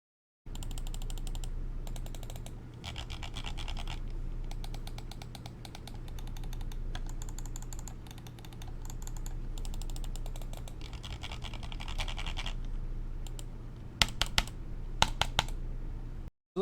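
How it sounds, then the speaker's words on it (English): Button clicks from an EC3-C computer mouse, a long run of small, crisp, close taps in irregular clusters over a steady low hum, with a few sharper clicks near the end. "So that's what the buttons sound like."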